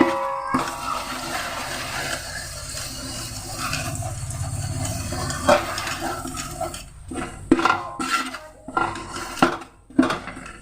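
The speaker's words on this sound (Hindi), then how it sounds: "घी हो गया गरम, तो मैं ये घोल इसमें मिक्स कर रही हूँ।" Metal utensils scrape and clatter against a pan as a batter for gond is stirred in hot ghee, with a steady sizzling hiss and several sharp knocks near the end.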